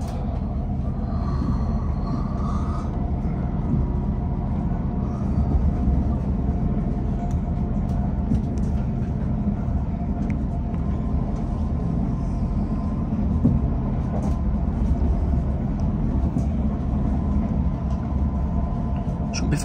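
A TransPennine Express train heard from inside a carriage on the run between Meadowhall and Doncaster, giving a steady, low rumble that holds even throughout, with faint rattles over the top.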